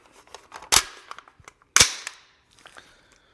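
Mechanical clacks of a firearm being cleared during a SWAT team equipment overview, with two loud sharp metallic snaps standing out among quieter clicks and handling noises, close up with no talking.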